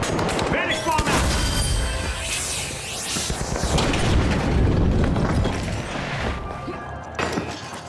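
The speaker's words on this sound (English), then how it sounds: "Vanish bomb out." A vanish bomb detonating during a round of the shooter game The Finals, amid loud booms, crashes and gunfire-like bursts in a chaotic firefight, with a voice talking over the action.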